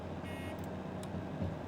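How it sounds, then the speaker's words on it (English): A locomotive bell in the train game Derail Valley sounds as a short electronic buzzer, a brief harsh tone followed by a couple of quick high blips over a low rumbling engine bed. "why is the bell this annoying buzzer?"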